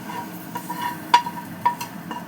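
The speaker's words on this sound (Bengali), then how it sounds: "এবার আমি এটা খিচুড়িটার মধ্যে দিয়ে দিচ্ছি।" Fried spice masala being stirred into a pot of vegetable khichuri, with a low sizzle beneath a few distinct metal spoon scrapes and clinks against the pot, close and fairly clear.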